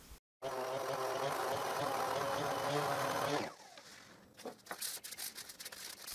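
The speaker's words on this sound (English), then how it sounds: "I sand the wooden disc" A wooden disc for a lamp built from wooden hangers is power-sanded: a steady, loud buzzing grind runs for about three seconds, then cuts off, leaving quieter scattered scraping and clatter.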